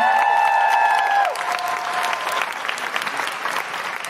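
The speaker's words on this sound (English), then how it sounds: "Big round of applause for Sophie, everybody!" A comedy show audience claps loudly and continuously, with a sustained tone ringing over the applause during the first second before the clapping carries on alone.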